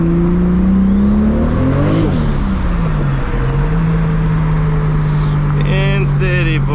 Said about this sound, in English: I can spin street tires all day long